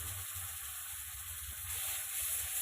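Steady sizzle and hiss as a little water hits turmeric and tomato frying in a pan, a constant bright fizzing with a faint low rumble beneath.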